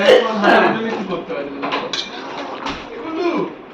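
A spatula stirs a spice paste of onion, ginger, garlic and green chili in a cooking pan, giving repeated close metallic scrapes and clinks at an uneven rhythm.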